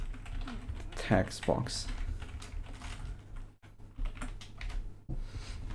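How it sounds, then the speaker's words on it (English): Computer keyboard keys clatter in quick irregular bursts, close and fairly soft, while someone talks over and between the typing. "we will type here"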